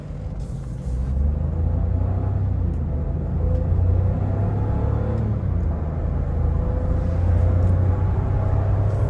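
A Chevrolet Tracker 2 fitted with a propane kit, running on petrol with the air conditioning on, gives a steady low engine rumble from inside the cabin as it drives and pulls, with no talking over it.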